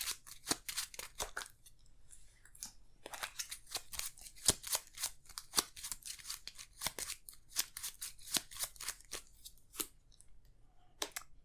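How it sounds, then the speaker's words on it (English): Shuffling a deck of Arkham Horror card-game cards, heard as rapid dry riffling snaps in quick bursts that pause and then resume, close and fairly crisp, with no talk over it. "Did we shuffle this? Make sure it's shuffled."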